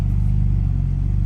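BMW G82 (M4) engine in Sport Plus mode, a loud, deep, steady rumbling drone close by with strong low harmonics, holding continuous throughout with no talk.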